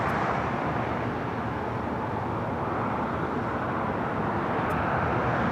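A Lufthansa Boeing 747 arriving at LAX on the north side makes a steady, broad jet roar that holds evenly throughout, heard from a distance.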